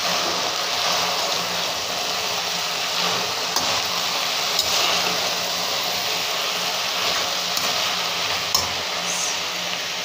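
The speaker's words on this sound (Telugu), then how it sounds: "పసుపు వేసి కొంచెం ఇలా కలుపుకోవాలి." Turmeric is stirred into a hot tempering in a pan, giving a steady sizzling hiss with a few faint scrapes and taps of the spoon, and no talking.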